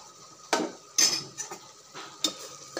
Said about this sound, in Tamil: நல்லா மிக்ஸ் பண்ணி விட்டுக்கிறேன்